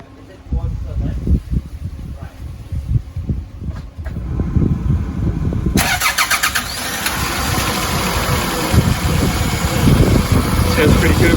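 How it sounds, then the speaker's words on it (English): A Toyota Tarago van, just fitted with a new valve cover seal and radiator, cranks and fires up, then settles into a steady idle that runs close and fairly loud, with a voice talking briefly before it starts. "let's just pop our lid on and let's turn it over and see how it goes"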